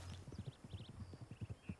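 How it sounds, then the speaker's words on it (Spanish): Horses trotting in Red Dead Redemption (RedM), a quick, uneven clip-clop of hooves with several animals overlapping, moderately close, alongside faint higher tonal game sounds. "Mucho caballo."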